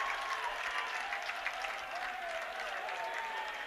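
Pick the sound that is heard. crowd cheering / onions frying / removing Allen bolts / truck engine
crowd cheering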